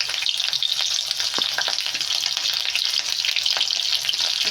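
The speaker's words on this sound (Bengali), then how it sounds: "তেল গরম হয়ে গেছে, এবার আধখানা তেজপাতা আর 5 ফোড়ন দিয়ে দেবো, আর দিয়ে দেবো 2টো চেরা কাঁচা লঙ্কা।" Half a bay leaf, five-spice seeds and two slit green chilies crackle and sizzle steadily in hot oil, a close, continuous frying hiss with small pops throughout, no voices.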